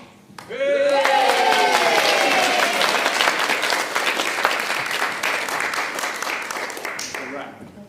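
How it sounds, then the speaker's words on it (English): Year 6 pupils at an end-of-year school assembly get a big burst of clapping and cheering from the audience, loud and sustained for several seconds, with a few excited voices rising over the dense applause before it tapers off. "Big cheer, Year 6, yeah?"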